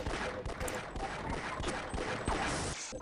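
Gunfire in the Half-Life video game, rapid bursts of shots in quick succession with sharp cracks over a busy game soundtrack, loud and continuous, with no speech.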